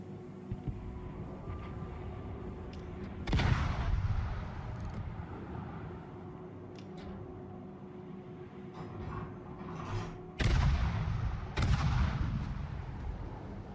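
Naval guns firing in World of Warships, heavy booming salvos at about 3.5, 10.5 and 11.5 seconds that roll out over a low rumbling background drone.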